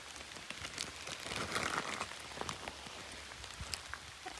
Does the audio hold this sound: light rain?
yes